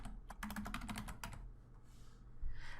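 Rapid bursts of keystrokes on a computer keyboard while typing an introduction paragraph, close and fairly quiet, fading into stillness near the end.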